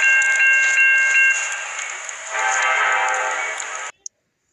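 A Norfolk Southern train passes with a continuous rolling rumble and high metallic ringing tones, fairly close and steady, before cutting off abruptly near the end.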